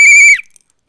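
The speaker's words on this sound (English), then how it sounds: "So I will officially whistle," A single loud, close blast on a whistle, a bright steady shrill tone lasting about a third of a second, then cutting off into silence.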